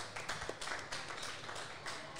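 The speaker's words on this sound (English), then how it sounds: "A round of applause for Muggo." A small live podcast audience claps for a guest at the end of a Parramatta Eels post-game show: a scattered, steady patter of hands at moderate distance with a few sharper claps, no voices.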